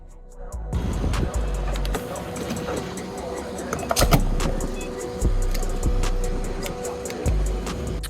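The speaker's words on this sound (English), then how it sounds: "first startup on E85" A 1000-plus horsepower Ford GT500 running on E85 cranks and fires up for the first time, its engine settling into a loud, choppy, lumpy idle with sharp pops throughout, while faint voices can be heard in the background.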